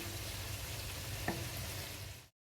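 Liver tossed with garlic and spices in a pan for Alexandrian-style liver, a steady close sizzle with one sharp clink of the utensil near the middle, then an abrupt cutoff.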